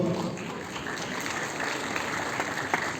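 Steady audience applause at the Erbaa Altın Yaprak singing contest, a dense clatter of clapping that holds evenly for about three seconds with a faint voice underneath.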